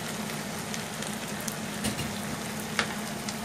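Ground spices, turmeric, coriander powder, roasted cumin, black pepper and garam masala, sizzling in oil in a pan, a steady soft crackle and hiss with a few sharper pops, close and alone.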